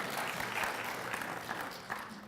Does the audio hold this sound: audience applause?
yes